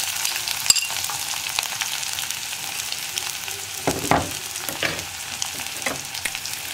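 Sliced onions frying in hot oil in a pan, a steady close sizzle broken by scraping stirs and a few clacks of the spoon.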